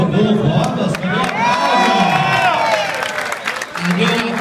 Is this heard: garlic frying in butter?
no